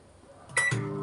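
A microwave oven starts up with a short electronic beep, then a steady low hum sets in, quiet and close.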